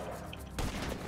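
Burst of gunfire in GTA V, a loud crack of shots breaking out partway through and rattling on to the end over a steady game background.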